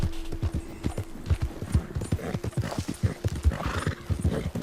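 Hooves clop in a quick, steady gallop while a horse whinnies, moderately close, with a low hum in the background, in the video game Red Dead Redemption 2.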